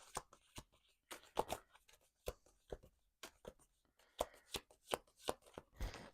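A deck of tarot cards is shuffled up close in a series of quick riffling, flapping bursts separated by short pauses, with no voices.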